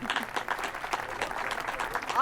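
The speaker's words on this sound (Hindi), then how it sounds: "तालियों से स्वागत कीजिए।" Short burst of audience applause welcoming a guest in a Hindi comedy film scene, steady clapping with voices underneath throughout.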